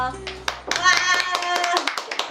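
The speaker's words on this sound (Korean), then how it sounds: "박수 치면 등장할게요" A few people clap hands in a small room, scattered sharp claps under excited voices and cheering.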